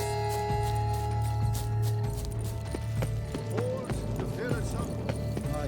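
Horse hooves clip-clop at a steady walking rhythm in The Witcher 3, moderately quiet beneath voices talking and a low sustained music bed.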